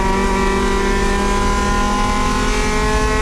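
A race car engine in a USTCC touring car race drones loud and steady from inside the cockpit as it accelerates along the track, a dense continuous roar with stable harmonic tones and no pauses.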